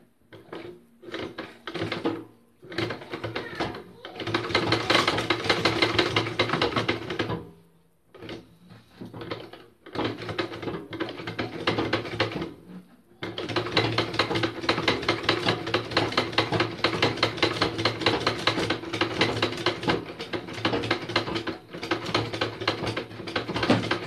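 A sewing machine runs in long continuous bursts while stitching a mobile back cover, its rapid mechanical clatter loud and close, stopping briefly twice before starting again.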